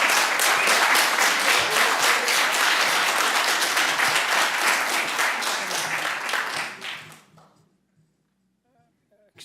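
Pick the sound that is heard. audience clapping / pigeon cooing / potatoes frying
audience clapping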